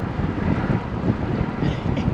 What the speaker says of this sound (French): Vent de face.